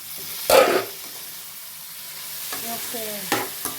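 Onions fry in a pan with boiled bitter gourds, a soft sizzle under a few bursts of stirring and scraping.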